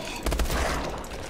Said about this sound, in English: It's a burst gun.